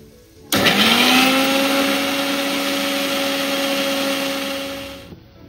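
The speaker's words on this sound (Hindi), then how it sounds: "ये आम ठंडा हो गला, आपको आम बाटीदबा, आपको ग्राइंड करदबा।" Electric blender grinding cooled mango pieces into a paste, starting abruptly and running as a loud, steady whir with a rising motor pitch that holds for about five seconds before cutting off.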